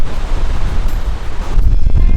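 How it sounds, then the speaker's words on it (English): Strong wind on an empty pier buffets the microphone in a continuous, loud rumbling roar with gusty surges, and no voices. "it's maybe a little bit windy"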